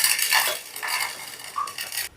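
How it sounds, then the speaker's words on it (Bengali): Fried spices are scraped from a kadai onto a plate, with close clinks and scrapes of a metal utensil against the pan and dish in short bursts over about two seconds, with no talk. "এবার মশলাটাকে আমি একটা প্লেটে নামিয়ে নেব"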